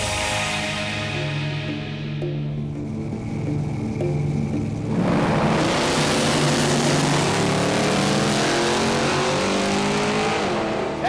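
Drag race car making a pass at a street-style drag event, a loud engine roar that swells from a distant approach into a close, harsh blast with sweeping pitch changes as it accelerates by.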